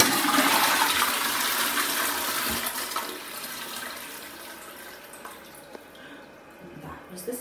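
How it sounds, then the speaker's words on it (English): A push-button toilet flushes in a bathroom with a loud rush of water that gradually fades into trickling and dripping as the tank refills, heard close up. "That was the sound of the toilet."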